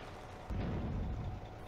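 A tank gun fires an APCBC shell at a Soviet T-60 in the World War II Eastern Front video game Firefight, set in June 1941. A single deep boom breaks in partway through and rolls on as a heavy, sustained low rumble.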